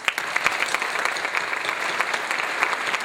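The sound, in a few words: audience applause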